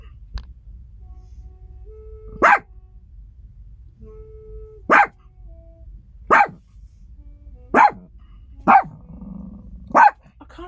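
A chihuahua howls and yelps along to a jazz saxophone, six short sharp bursts spaced a couple of seconds apart, loud and close, with faint sustained sax notes drifting in between.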